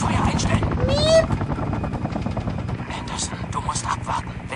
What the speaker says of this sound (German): Feindlicher Heli.